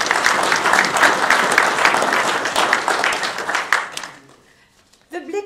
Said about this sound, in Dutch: En daarom klinkt voor jullie allemaal het volgende geklap.